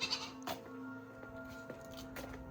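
Goats bleat near a house in a few quiet, wavering calls over soft background noise, with no talk.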